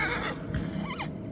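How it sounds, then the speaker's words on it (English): A horse in the PS4 remake of the video game Shadow of the Colossus gives a short, close whinny with a rising and falling squeal, brief and loud, with no talking. "The horse knows, listen to it."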